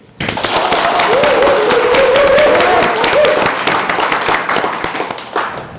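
An audience at a Korean election campaign event for Dangjin city candidates claps together in a loud, continuous burst that tapers off toward the end, with a sustained tone and some voices underneath.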